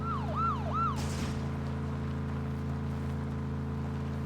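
In PUBG, a police car's siren wails through three rising-and-falling cycles, then cuts off sharply, leaving the car's steady low engine hum running alone.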